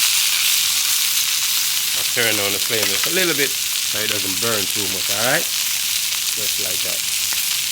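A rib eye steak sears in a cast iron pan over an outdoor flame with a constant hissing sizzle, close and even throughout, while someone talks over it for part of the time.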